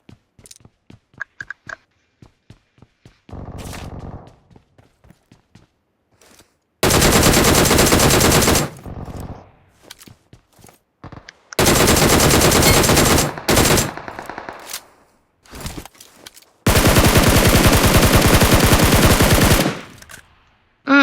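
Automatic gunfire in the mobile battle-royale game PUBG Mobile: loud, sustained bursts of rapid shots in long volleys, separated by short scattered single shots and brief pauses.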